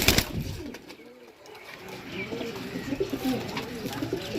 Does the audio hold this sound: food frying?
no